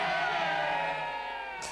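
A crowd at a Pegida rally in Newcastle cheering and shouting, a broad sustained roar of many voices heard from some distance, steady throughout.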